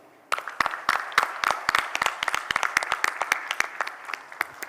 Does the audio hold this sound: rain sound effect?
no